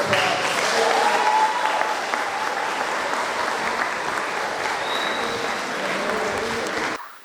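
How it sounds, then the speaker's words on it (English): Sustained audience applause at a 2021 graduation ceremony, a dense steady wash of many hands clapping for about seven seconds before cutting off abruptly. "I would ask you to give them another round of applause."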